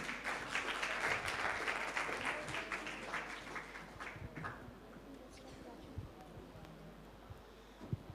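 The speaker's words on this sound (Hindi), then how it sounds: "आपकी भरपूर तालियों में" An audience at a children's naat competition claps steadily for several seconds, then the applause fades as the room quiets and speech continues faintly underneath.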